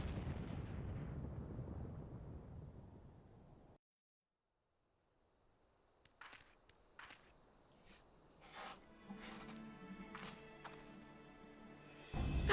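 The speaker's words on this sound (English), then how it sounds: "The main tower just collapsed! You heard it too, didn't you? Must have been a cannon" Deep rumbling blast as a tower collapses in an explosion in Final Fantasy XIV, fading into silence, followed by scattered sharp impacts and debris clatter building toward the end.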